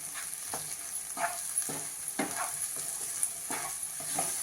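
Capsicum gravy ingredients with ground sesame, salt and coriander being sautéed in a pan: a soft background sizzle broken by regular scraping strokes of a spatula, about two each second, close and fairly quiet.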